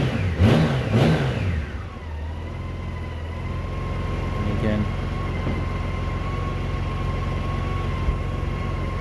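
A Honda GL1800 motorcycle engine idles steadily with a low, even rumble after a brief rev at the start, heard up close.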